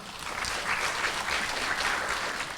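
Sustained applause from an audience at the Ekolaury 2014 award ceremony as a laureate is called up, an even wash of clapping throughout at moderate volume.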